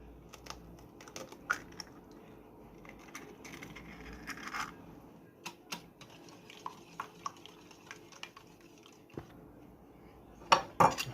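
Whisk or utensil clinking against a bowl as eggs are stirred into a thick flour batter for cauliflower fritters, with scattered taps and scrapes close by and sharper clacks near the end.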